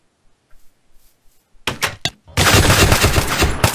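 Gunfire in a Minecraft zombie-survival mod, a couple of sharp shots followed by a sustained rapid burst of loud close automatic fire after a quiet lead-in with faint clicks.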